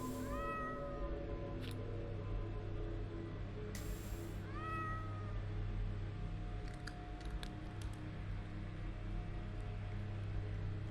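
Cat meowing in the video game The Excavation of Hob's Barrow, two clear rising meows early on over a steady low ambient hum, with faint clicks later.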